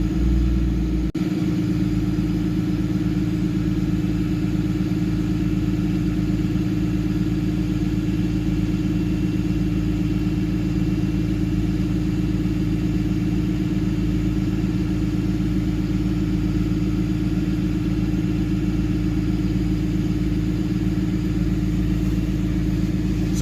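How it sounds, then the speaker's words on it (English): Diesel truck engine with a Banshee VGT controller held at high idle, a steady close drone with a constant pitch running unbroken for over twenty seconds without speech. "So now I'm going to high idle my engine."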